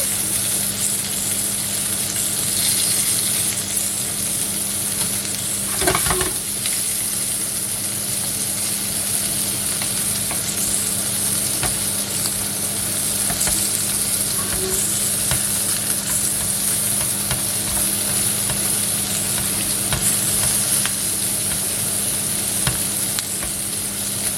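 Shrimp fry and are turned in a pan with a steady, close sizzling hiss and occasional scraping of the utensil. A low background hum runs underneath throughout.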